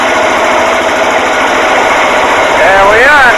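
An old tractor engine, choked and cold, cranks and fires with a dense, steady loud roar, a warbling whine rising near the end.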